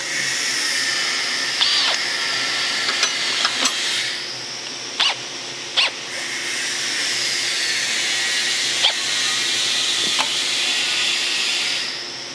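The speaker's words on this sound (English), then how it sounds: "Switch back to my drill bit." A high whining power drill drills holes while installing a split-fire log lifter, running in long steady stretches, with a few sharp clicks and brief pauses between bursts.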